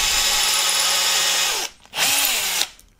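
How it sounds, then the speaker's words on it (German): Power drill countersinking screw holes in a wooden featherboard for a table saw: a loud, close, high whine, a short pause, a second burst, then winding down. "ich habe jetzt 5 Löcher drin und wir senken die ein bisschen"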